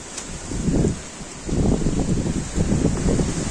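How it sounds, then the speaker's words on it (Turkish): Gusty wind buffets the microphone in low rumbling bursts, rising and falling in three strong waves over a steady airy hiss. "Çok rüzgarlı bugün."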